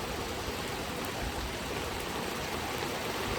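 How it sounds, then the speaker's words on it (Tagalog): Strong, steady rushing of flowing river water, loud and continuous throughout, with no voices. "malakas yung daloy ng tubig"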